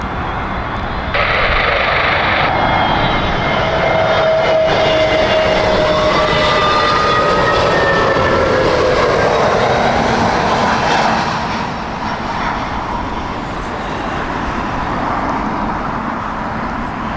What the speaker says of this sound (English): This is SAS's A320neo.